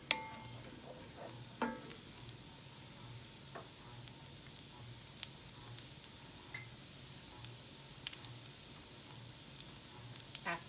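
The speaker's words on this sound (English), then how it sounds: "We want to cook our garlic for just about 45 seconds before we add everything else" Garlic cooking in butter in a pan for shrimp scampi, a soft, faint, continuous sizzle with a few light clicks of a utensil, and no voices.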